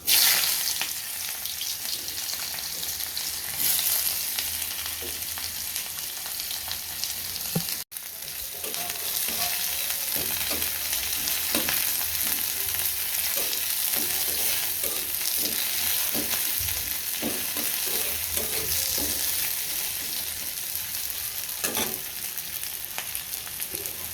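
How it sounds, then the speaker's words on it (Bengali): Large prawns frying in very hot oil for a prawn bhuna give a steady loud sizzle, broken by repeated stirring scrapes in the pan, with no voices. "এটা একটু চিংড়ি মাছ ভুনা করবো। তেলটা বেশি গরম হয়ে গেছে।"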